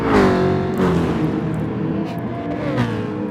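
Jaguar race cars in Gran Turismo Sport scream along at top speed, high sustained engine whine with shifting pitch as cars pass close, loud and continuous.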